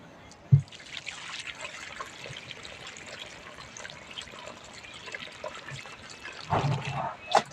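Water trickles and drips softly into soil at an electric fence energizer's earthing point, with a few sharper splashes and faint voices in the background.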